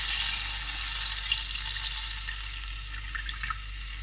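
Water poured into a hot cooking pan while making Gujarati-style gathiya shaak, giving a steady broadband splashing hiss with sizzle that eases slightly over several seconds, close and alone without talk.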